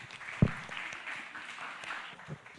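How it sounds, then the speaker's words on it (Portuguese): A church congregation claps together during a worship service, a short burst of scattered applause with one sharp early clap that fades out. "Aplaudamos o Senhor."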